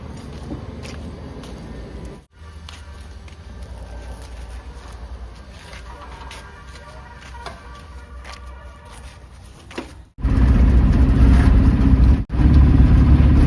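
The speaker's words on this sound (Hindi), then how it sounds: "आ गई अपनी जीतो गाड़ी" Mahindra Jeeto mini goods vehicle arriving, a steady mid-pitched engine hum that is briefly cut off and then turns much louder and closer near the end.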